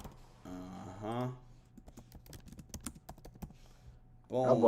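Keyboard typing: a scattered run of quick clicks between two stretches of someone talking.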